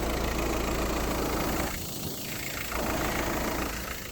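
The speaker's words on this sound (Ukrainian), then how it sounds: "Мотор працює рівно, стабільно, справно, все в хорошому стані" A Volkswagen Golf V engine idling, a steady, even mechanical hum that runs continuously for a few seconds with a slight dip midway.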